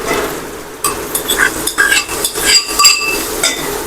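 Okra curry with chutney being stirred in a pan, a close, busy run of spoon clinks, scrapes and knocks against the metal pan with a faint sizzle underneath.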